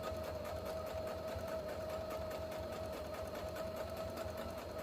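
A sewing machine runs a straight stitch at a fast, even pace, its rapid needle chatter and motor whine steady and close throughout, with no talking.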